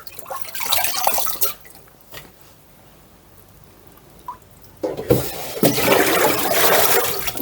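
Fresh parsley swished and rubbed around in a bowl of water, with splashy sloshing bursts at the start and end and a quieter stretch of faint drips in between.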